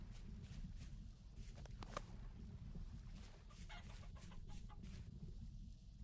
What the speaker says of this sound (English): Hey, chickens, I really need to make traps to trap you once we're not in the winter.